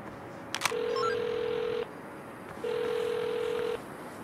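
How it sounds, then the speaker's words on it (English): A burner phone rings in an open-world crime setting: two long electronic ring tones with a short gap between them, each steady and clear, preceded by a brief click. "Pick up the burner phone."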